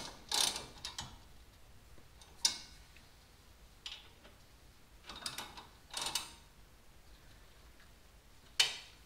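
A ratchet snugs down bolts on the brakes of a lowered GMC Sierra pickup, giving several short, sharp clicking bursts separated by quiet pauses, fairly close.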